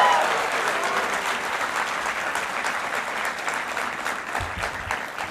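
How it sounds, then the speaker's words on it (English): Applause from a graduating class at a 2016 convocation, with steady, dense clapping filling the hall from start to end and fading slightly toward the close, without voices over it. "You can give yourself a much bigger round of applause."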